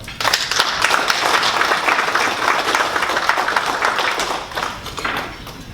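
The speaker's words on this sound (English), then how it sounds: "we should give a very loud round of applause to this association" An audience at a fundraising gala claps loudly and steadily for several seconds, a dense close wash of many hands that tapers slightly at the end.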